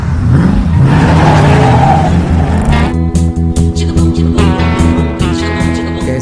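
A Ford race car is test driven in the film Ford v Ferrari, its engine revving loudly with rising, whining pitch and rapid gear changes, the droning engine tone dominating throughout.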